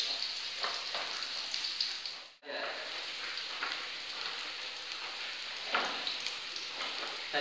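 Fried rice sizzling in a hot pan with carrot, stirred steadily, a continuous close frying hiss with a brief pause midway before the sizzle resumes.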